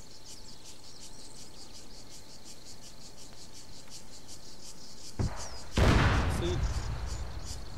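Distant gunfire in the video game ArmA 3 on a Hardcore Wasteland server: a sharp broadband report and then a louder crack with a decaying tail near the end, over a steady bed of chirping crickets.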